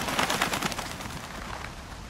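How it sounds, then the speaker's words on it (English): Birds flutter up in the video game A Quiet Place: The Road Ahead, a dense burst of rapid wingbeats that starts loud and fades over about two seconds. "Oh, the fluttering of birds."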